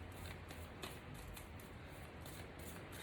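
Tarot cards are shuffled in a soft, continuous riffling wash for the full three seconds, a steady papery rustle with no voices over it.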